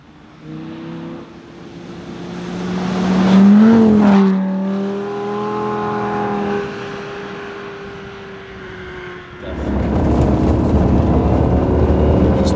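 A Lamborghini's engine pulls hard in a snowstorm in Summit County, Utah, its loud close tone climbing and falling through gear changes, then swelling again into a heavy roar near the end.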